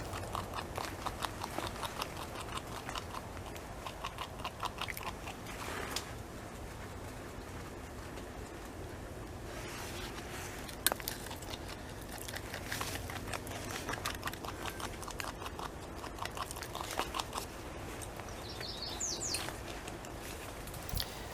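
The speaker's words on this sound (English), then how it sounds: "There's about 30 seconds left of this beaver chewing on a stick." A beaver gnaws on a stick near a pond, a faint, continuous run of rasping, crunching bites at a steady rhythm with no voices.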